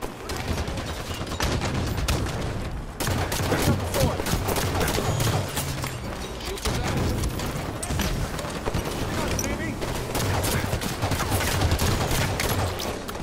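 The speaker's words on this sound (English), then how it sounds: "Watch enemy fire!" Sustained gunfire in Halo 5 multiplayer on Xbox One, dense rapid bursts of automatic weapon shots with explosions mixed in, loud and continuous throughout with brief gaps.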